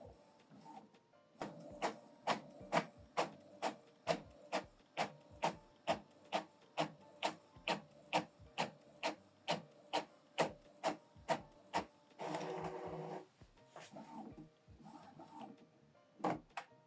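An Epson ET-3950 inkjet printer working through the reverse side of a document: a steady series of rhythmic mechanical clicks and whirs, then a longer rushing feed noise and a few scattered clacks, fairly quiet and with no talking.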